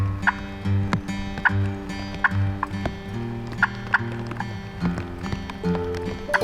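Wild hen turkeys call in the woods with aggressive cutting and yelping: sharp, repeated clucks and rising yelps come in irregular bursts over a steady, close background of calls.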